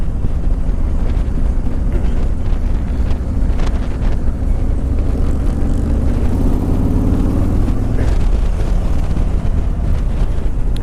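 A 2018 Harley-Davidson Road Glide motorcycle being ridden, its steady low engine rumble running continuously under heavy wind buffeting on the microphone, with no talking.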